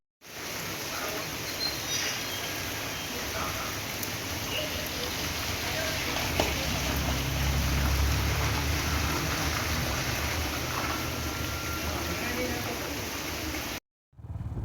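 A small stream in the Ambanad hills, a continuous broadband rush of flowing water with rain falling, steady and close for the whole stretch.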